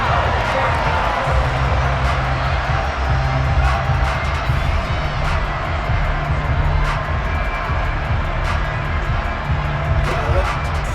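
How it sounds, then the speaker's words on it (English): A steady roar of a big stadium crowd clapping and cheering at an American football game in the video game Madden NFL 23, continuous and loud, with no pauses. "How about some applause for the defense there?"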